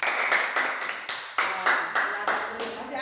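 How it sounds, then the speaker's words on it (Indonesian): A fifth-grade primary classroom claps together for a student group in a rhythmic, patterned burst of sharp, evenly spaced claps, close and lively. "Tepuk tangan untuk kelompok 2."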